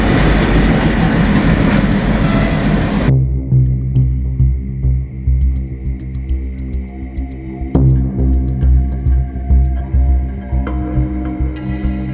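A passenger train at a railway platform gives a loud, rumbling, rhythmic clatter of wheels over rail joints, opening with a dense roar that settles into steady throbbing and clicking, with no talk.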